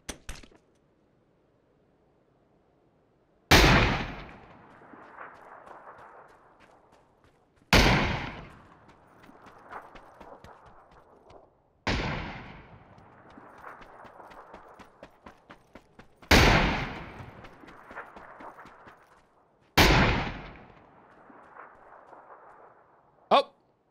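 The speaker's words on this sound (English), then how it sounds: "They will mimic the sounds of gunshots," Five sharp, loud gunshot-like cracks from a PUBG decoy grenade fire at regular intervals, each followed by a fading, rattling tail and near silence between them.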